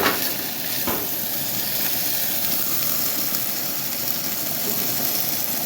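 Steak for a quesadilla sizzles in a pan on the stove as the heat is turned off, a steady, close frying hiss that continues without interruption.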